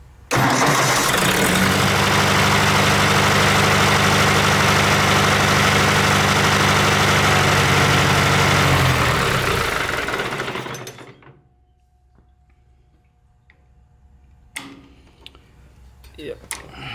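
Ford 172 diesel engine running loud at a high idle, a steady clattering drone for about ten seconds before it shuts down and falls near silent, with faint knocks and shuffles afterward.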